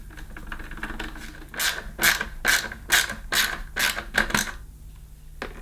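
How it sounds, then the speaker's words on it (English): A Phillips screwdriver tightens a screw during assembly of a Bissell Revolution Pet Pro carpet washer, a series of about eight close, rhythmic scratchy turns over faint background hum. "finally we can tighten the screw using a Phillips screwdriver."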